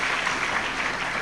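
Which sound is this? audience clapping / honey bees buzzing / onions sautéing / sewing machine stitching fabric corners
audience clapping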